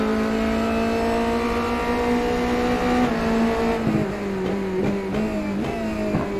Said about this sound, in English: Let's just ride on board and have a listen to this car.